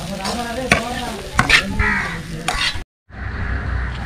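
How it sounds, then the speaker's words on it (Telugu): Moringa leaves frying in oil, a dense close sizzle with scraping stirs and clanks, cutting out briefly near the end before the crackle resumes. "మునగాకు ఇలాగ వేయించుకొని"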